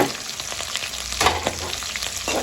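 Green chillies, ginger, garlic and grated coconut fry in a pan for chicken masala, with a continuous close sizzle and occasional stirring scrapes and clatters, no voices.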